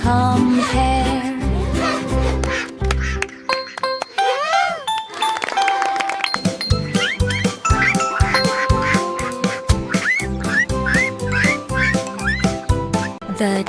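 A cartoon duck in an animated nursery-rhyme song quacks in a bright, repeated pattern over a bouncy musical backing with chimes and tinkling tones.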